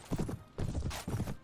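Horse hooves clip-clop in the Mount & Blade Warband video game, three quick bursts of close, heavy footfalls in a steady gallop-like rhythm.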